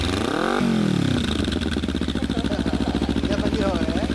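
A 2013 Kawasaki Ninja 250 (EX250L) motorcycle engine idles with a steady, throbbing pulse close by, while voices talk over it.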